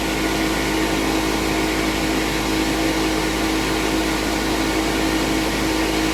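An air compressor runs steadily while building pressure for paint spraying, a loud continuous motor drone and hiss holding unchanged throughout, with no voices.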